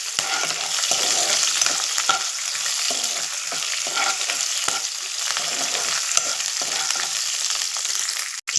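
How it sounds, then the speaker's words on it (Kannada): Mint and coriander leaves fry on a stove for potato rice, a dense steady hiss of sizzling oil with soft stirring underneath, close and constant without speech. "ನೋಡಿ ಫ್ರೆಂಡ್ಸ್ ನೀಟಾಗಿ ಫ್ರೈ ಆಗಿದೆ"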